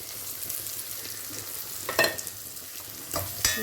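Curry leaves hit hot oil in a pan of frying ivy gourd for a Kerala-style stir-fry, giving a soft steady sizzle with a couple of sharper crackling bursts and stirring scrapes, close by, with no talk.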